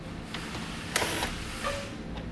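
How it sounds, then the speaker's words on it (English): A 7mm socket works loose one of two bolts holding a base plate part on a 2017 Jeep Cherokee, giving a brief cluster of close mechanical clicks and one sharper scrape over a quiet garage background. "I'm going to be using a 7mm socket to remove the 2 bolts holding it in place."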